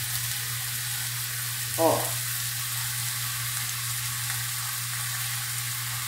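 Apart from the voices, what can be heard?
noodles added and stirred in a frying pan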